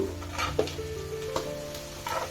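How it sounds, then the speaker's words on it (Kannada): Carrots and beans tossed into hot oil with fried onions sizzle steadily in a pan for vegetable upma, with occasional clinks and scrapes of a stirring spoon against the pan and no talking. "ಇದನ್ನು ಎಣ್ಣೆಯಲ್ಲಿ ಸ್ವಲ್ಪ ಫ್ರೈ ಮಾಡೋಣ"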